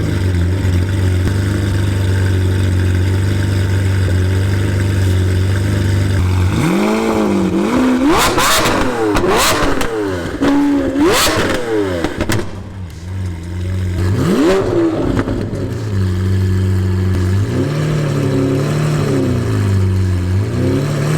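A Liberty Walk Lamborghini Aventador with a 6.5 liter V12 idles loudly on a London street, then rips through several sharp revs that rise and fall, settles briefly, and revs again.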